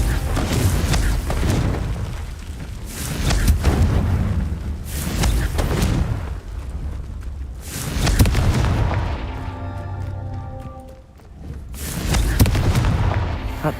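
Confringo fire spell explosions in Hogwarts Legacy, a series of heavy, booming blasts with rumbling tails that roll one after another, and a brief ringing magical tone partway through.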